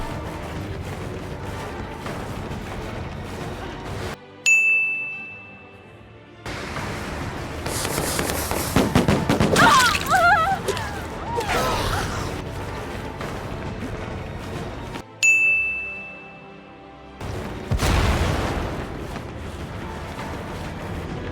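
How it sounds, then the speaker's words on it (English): Sharp bursts and hissing blasts of flashbang grenades erupt alternately with tense ringing tones, video game explosive effects repeating in loud, noisy waves over about twenty seconds. "a wrong example of trying to hide your flashbang sound and a right example of hiding your flashbang sound"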